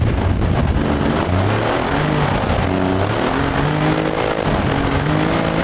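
An Ibishu Kevin off-road kei truck with a five-speed manual transmission revs its engine in the BeamNG Drive video game, the note rising and falling in repeated loud pulls that sound close and continuous.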